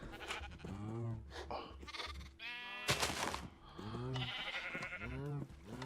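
Sheep in Minecraft bleat repeatedly in quick, overlapping wavering calls, several in a row, loud and close with short gaps and no talk.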